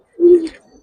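A single low, throaty pigeon coo rises close by and fades within a second, with no talk, recorded at a farm keeping Giribaz and specially colored pigeons.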